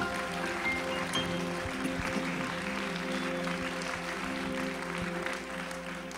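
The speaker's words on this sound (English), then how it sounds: "Why don't you clap your hands one more time?" Church congregation clapping hands during a sermon service, a dense, sustained wash of applause heard from within the room, with a steady organ-like tone sustained underneath.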